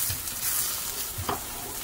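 A paneer snack cooks on a pan after flipping, giving a dense, loud, close sizzle that runs throughout, with a few soft thuds and one brief scrape.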